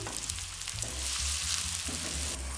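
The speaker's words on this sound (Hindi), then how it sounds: "प्याजों को मैं ब्राउन कर लेती हूँ।" Onions browning in hot oil in a home kitchen pan give a steady, close, loud sizzle with crackling hiss throughout, the tone shifting slightly as they are stirred, with no voices.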